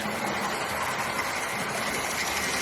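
A budget model railway locomotive runs around the track, giving a steady close whirring motor hum with faint rolling wheel clatter and no clear breaks.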